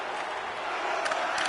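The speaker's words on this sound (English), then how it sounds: "you can feel the energy in this crowd" Steady roar of a hockey arena crowd in the NHL 25 video game, a dense wash of cheering that swells slightly near the end, continuous and fairly loud with no distinct voices.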